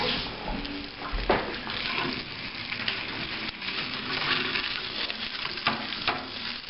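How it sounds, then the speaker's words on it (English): Spinach sautés in oil in a pan with a steady close sizzle and crackle, broken by occasional louder scrapes and stirring knocks as the greens are moved around. "I just saute the spinach"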